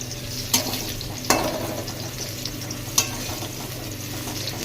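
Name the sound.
food frying for Loknath puja cooking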